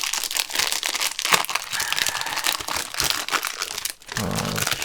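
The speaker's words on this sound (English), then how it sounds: "Let's take the wrapper off." Plastic wrapper crinkles and tears off a MoYu 12x12 puzzle cube, close and loud, with continuous crackling and rustling and a brief pause near the end.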